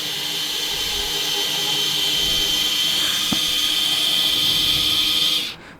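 A welding machine's wire feeder running at fast speed, a steady high whirring hiss held for several seconds with one small click midway, close and loud, then cutting off abruptly at the end.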